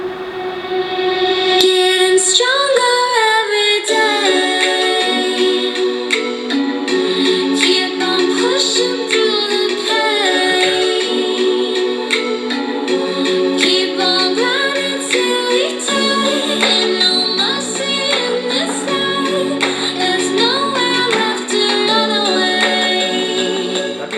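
Loud electronic hard bass music plays through a small SonicGear Quatro 2 speaker, with buzzy synth tones and a rough, distorted bass line continuing throughout.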